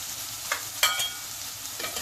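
Onion frying with salt in a pan, a steady hissing sizzle with a few quick spatula scrapes and one sharper clatter partway through.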